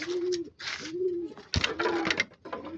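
Pigeons coo in a close series of soft, throaty calls, several rounded coos repeating over a couple of seconds with light rustling between them.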